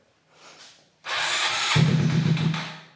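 Honda Grom motorcycle with an aftermarket cam and exhaust starting up: a brief faint crank, then the engine catches abruptly and settles into a loud, steady, throaty idle close by.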